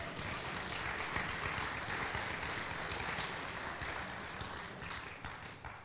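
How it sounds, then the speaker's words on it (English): At a spring 2022 university robing ceremony in Lyndon, Vermont, an audience claps in a dense, continuous patter of many hands that holds steady from start to finish, with no voices over it. "clap if you want."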